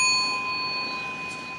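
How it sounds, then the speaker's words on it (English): A struck singing bowl rings out in a sustained, pure tone with clear overtones, loud at first and slowly fading as it resonates alone without any voices. "we have to wake up the bowl first. So we listen to the sound once"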